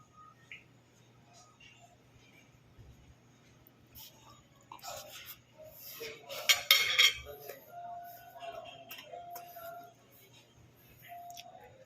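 Cutlery and dishes clinking quietly during a meal of daing na bangus with atsara, with scattered light taps and scrapes and a brief burst of louder clatter partway through, plus faint breathing.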